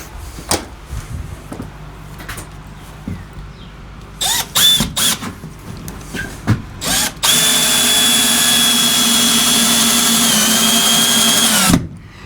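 A power drill drives long screws into a workbench beam: short bursts and taps early on, then a loud, steady whirring run for several seconds that cuts off abruptly, with no voices.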